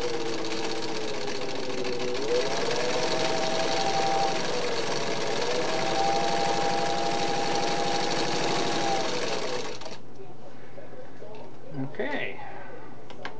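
A Singer 15-91 sewing machine stitches steadily with a fast, even mechanical whirr and clatter for about ten seconds, the motor pitch dipping and rising slightly, then stops abruptly, leaving quiet room noise and a few faint clicks.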